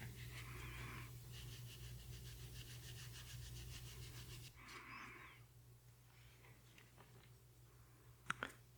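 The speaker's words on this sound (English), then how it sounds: "I've got a rag with some denatured alcohol. That's going to break that adhesive down and then we can just peel this off." A rag soaked in denatured alcohol rubs tape adhesive residue off a wooden ring blank, giving rhythmic back-and-forth scrubbing strokes for several seconds, a brief second burst, then quieter handling and a sharp tap near the end.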